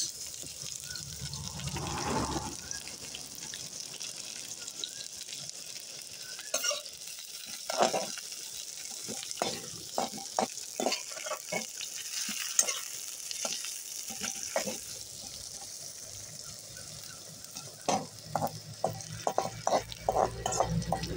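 Onion, ginger and garlic frying in a pan as the base for a chicken dish, giving a steady sizzle with frequent clattering stirs and scrapes that get busier in the second half, no talking.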